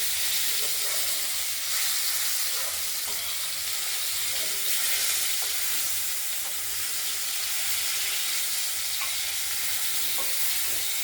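Pieces of rohu fish fry in hot oil with a constant loud sizzling hiss and small pops, heard close and alone without any talking.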